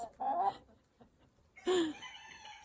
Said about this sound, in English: And this is some of the chickens.